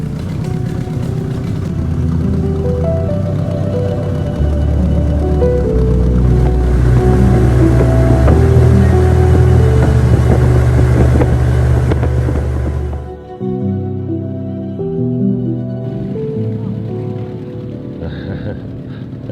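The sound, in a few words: two-stroke boat engine running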